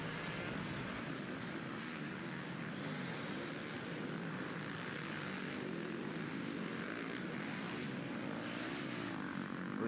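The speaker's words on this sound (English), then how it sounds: "Fox FPV drone fired back up as well" Fox FPV drone flying at a Southwick GP motocross race, a steady, loud propeller drone that drones on unbroken throughout with no pauses, fairly close and alone.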